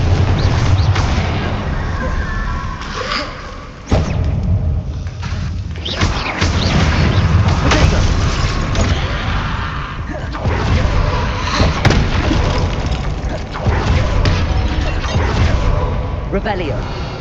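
Confringo fire spells in Hogwarts Legacy burst repeatedly amid a dense, loud wash of game noise, with sharp thuds and blasts landing every few seconds throughout.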